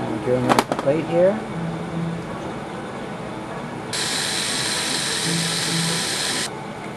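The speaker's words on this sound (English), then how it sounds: "I'm drilling the plate here." Drilling holes in a tablet back plate: a sustained drill whine lasting a few seconds after some clattering handling noises at the start, with a voice speaking briefly early on.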